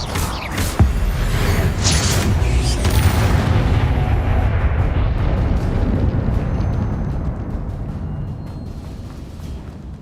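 Hogwarts Legacy spellcasting, a loud booming magical blast with rumbling, crackling energy that swells early then slowly fades over the following seconds.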